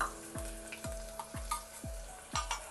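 Chopped onions and peeled garlic hit a hot pan where mustard seeds are already popping, for a Chennai-style vegetarian thali. A steady close sizzle runs throughout, broken by regular low sweeping thuds about every half second, with no talk.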